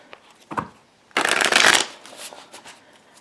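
Tarot cards from an Anna K Tarot deck riffle-shuffled in one loud, dense burst of rapid fluttering, preceded by a couple of soft handling taps and followed by quieter card clicks.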